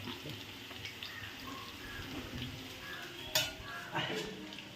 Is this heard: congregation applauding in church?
no